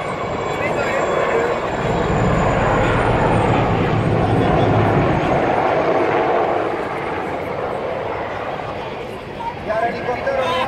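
A military helicopter armed with a 20 mm cannon flies past at an air show, its loud, continuous engine and rotor roar filling the whole stretch, easing slightly toward the end while a commentator's voice runs over it.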